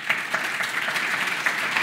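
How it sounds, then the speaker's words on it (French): Audience at a public renovation event in Toulouse applauding, a dense, even roar of many hands clapping steadily at close range. "Vous pouvez d'ailleurs vous applaudir."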